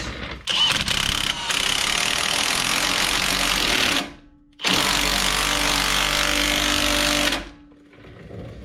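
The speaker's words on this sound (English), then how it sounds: "This is going to be torqued to exactly about 12 ugga-duggas." An impact wrench hammers on a CV axle nut during a 1999–2007 axle install: two long, loud rattling bursts separated by a short pause, close up, with a brief lighter burst near the start.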